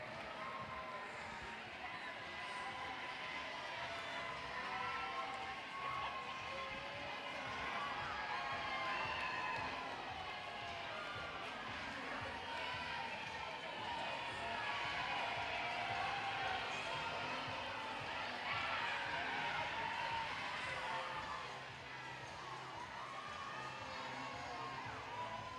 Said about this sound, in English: Let's give them a big round of applause and a whole lot of love.